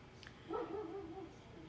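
Faint dog barking outside, a short burst of distant, muffled barks heard from indoors.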